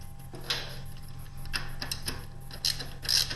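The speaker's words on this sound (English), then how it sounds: "Now you want to hand throw the machine, checking to make sure that everything's smooth, there's no binding in the controller, everything works." An M-23 railway switch machine thrown by hand during a controller replacement, giving scattered mechanical clicks and ratcheting gear sounds at close range over a steady low hum, with sharper clatters near the end.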